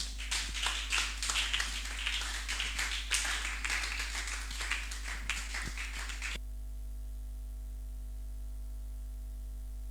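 A church congregation claps and cheers, a dense burst of hand claps over steady hum that cuts off abruptly partway through, leaving only electrical hum and static.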